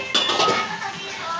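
Metal clinks and scrapes against a cooking pot as dried lemon, paprika, salt, pepper, coriander, curry powder and turmeric are tipped in, a short close clatter with no talk over it.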